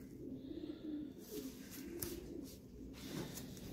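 Racing pigeons cooing inside a loft, a few soft, low rolling coos close by over a steady background hum.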